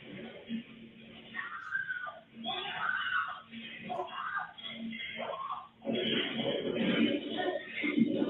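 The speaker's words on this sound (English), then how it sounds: "the horrifying blood curdling scream" A horrifying, blood-curdling scream from a recording, sustained and harsh with strained, wavering vocal cries that swell loudest toward the end, sounding muffled and band-limited.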